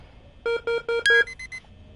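Beeping alert in a Five Nights at Freddy's game, four short evenly spaced electronic beeps with a brighter tone joining on the last, followed by a fading echo, clear and alone.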